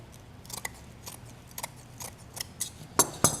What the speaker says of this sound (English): Then I can just take the scissors, trim,